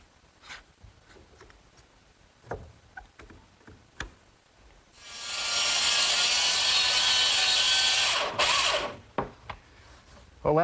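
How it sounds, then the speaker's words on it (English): A small circular saw cuts through wood for the legs of a tall Shaker-style chest, one steady loud whine of about three seconds, framed by scattered clicks and knocks of handling before and after. "which actually guides the base of my little circular saw, and now I'll just cut the angles freehand"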